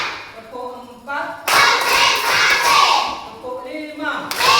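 A class of children clapping together in a classroom, a dense burst of claps filling about three seconds, with a teacher's voice speaking before and after.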